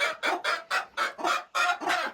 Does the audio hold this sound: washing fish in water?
no